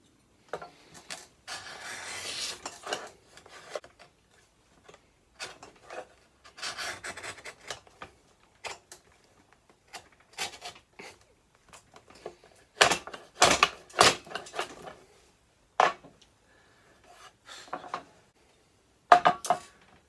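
A Saker chamfer plane cuts a chamfer along a wooden edge, giving repeated scraping, rasping strokes in bursts with small knocks and clatters between them, close and fairly quiet.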